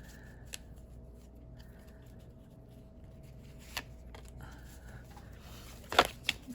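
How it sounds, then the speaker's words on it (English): A deck of tarot cards is shuffled quietly with light riffling and soft flicks, then a sharper burst of shuffling toward the end, with no talking over it. "One more last shuffle."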